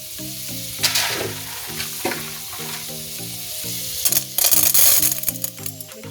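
Salted butter melts and sizzles in a pan with popcorn, producing a moderate crackling fry and repeated stirring scrapes, with a few louder clattering bursts near the end and no talking.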